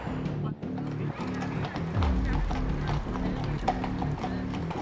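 Hooves of a Friesian and a Gelderland horse clip-clop in a steady rhythm as the pair pulls a carriage in Zeist, close and clear beneath a continuous voice talking over them.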